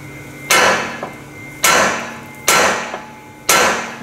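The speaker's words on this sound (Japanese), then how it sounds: "ハンマーで叩きます。" Hammer blows on the steering knuckle beside the ball joint of an RB1 Honda Odyssey during an upper control arm replacement: four sharp, close metallic strikes spaced about a second apart, each with a short ringing decay, no voices.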